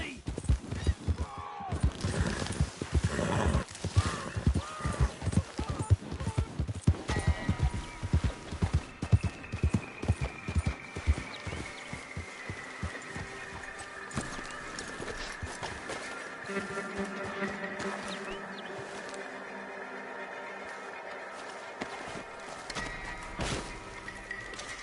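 Horse hooves galloping in the video game Red Dead Redemption, a rapid rhythmic clip-clop that is loud and dense at first, then thins out and fades behind game music and ambience, with a voice speaking briefly.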